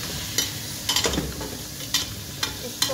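Mutton fries over medium-low heat with a soft, even sizzle, broken by several short scraping stirs of a spoon through the meat.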